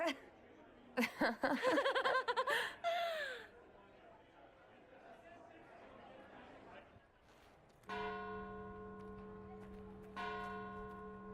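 Bells in the video game Dragon Age Inquisition ring out with sustained tones after an earlier burst of laughter and voices, repeating strikes near the end.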